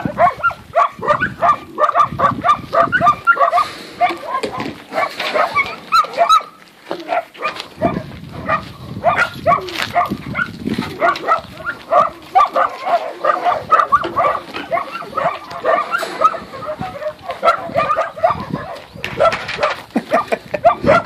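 Large pack of around thirty big dogs barking continuously and overlapping, loud and near with a dense chorus of deep barks and yelps, with occasional voices talking in among them.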